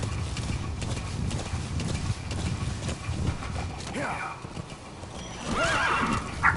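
A horse in the video game Metal Gear Solid V clops along with a steady run of hoofbeats, then whinnies twice in quick succession toward the end, with a game soundtrack or ambience underneath.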